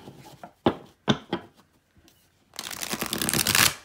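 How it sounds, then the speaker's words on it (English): A deck of thick cardstock playing cards is handled with a few sharp snaps and riffles, then a longer dense riffle shuffle builds to a busy, crisp rattle near the end; close and fairly quiet, with no talking. "this deck was fun to play with and experiment with, and oh, let me tell you how it shuffles"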